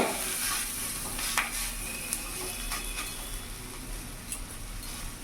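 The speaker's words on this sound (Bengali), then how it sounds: "এইরকম ভাবে একটু লাল লাল করে ভাজা হবে।" Potato chilla frying in a pan over a medium flame gives a soft steady sizzle with a few light clicks and taps of a utensil, close and fairly quiet, no talk.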